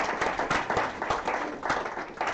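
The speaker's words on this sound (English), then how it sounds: "let's give a little round of applause here for our friend Mike" A small audience at a FreeSWITCH tech talk gives a brief round of applause, scattered claps overlapping in a dense, steady patter at moderate volume for a couple of seconds.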